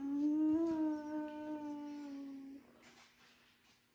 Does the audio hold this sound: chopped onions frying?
no